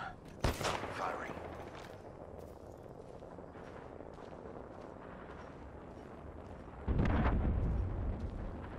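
Gunfire and explosive blasts from the battle game Apex Legends: a sharp burst near the start, then a steady rumble of combat, and a loud heavy boom around the seventh second, with a voice talking over it.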